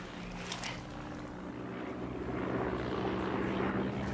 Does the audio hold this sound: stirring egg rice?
no